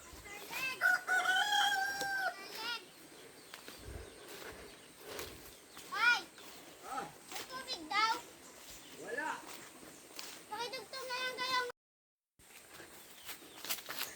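Roosters, a neighbour's gamecocks, crow repeatedly at a distance in a rural province, calls overlapping and rising through the clip, while people talk nearby underneath.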